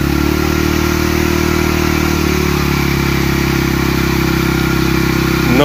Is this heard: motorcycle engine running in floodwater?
yes